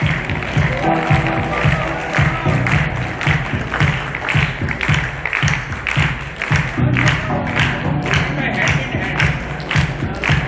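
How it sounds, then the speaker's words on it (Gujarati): Audience applause at a grand felicitation ceremony, a dense continuous wash of many hands clapping with crowd noise and music mixed in, loud and steady for the whole stretch. "come on, put your hands together and lovely music"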